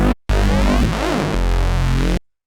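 Thick Serum neuro bass processed with vinyl distortion and no first effects chain: a loud, continuous growl with shifting filter sweeps, starting after a brief gap and stopping cleanly near the end.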